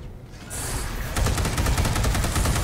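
Rapid automatic gunfire from the Space Hulk video game, a dense stream of loud shots beginning after a brief whoosh and continuing without a pause to the end.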